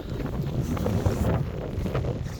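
Strong mountain wind buffets the microphone in a steady, loud rushing roar with gusty surges and no talking.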